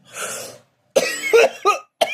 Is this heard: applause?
no